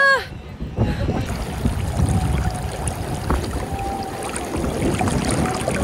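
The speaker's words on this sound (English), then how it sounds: "Can you hear the sound of wind?" Wind buffets the microphone beside an outdoor hotel swimming pool in Incheon on a cold day, a continuous rumbling roar that runs the whole time after a brief voice at the start.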